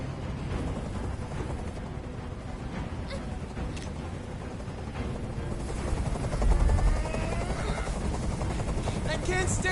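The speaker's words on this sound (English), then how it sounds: "Tell that helicopter to get out of here." A helicopter's steady rotor drone in the video game Detroit: Become Human fills the scene, loud and continuous, with a heavy low rumble swelling briefly partway through and voices talking underneath.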